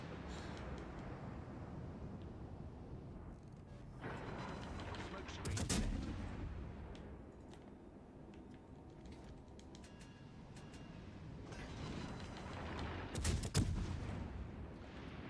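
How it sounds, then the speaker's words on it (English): Naval gunfire from warships in World of Warships Legends, heavy broadside salvos booming in two sharp bursts over a low rumbling battle background, with occasional keyboard clicks and faint talk. "I see that Fiji firing broadside"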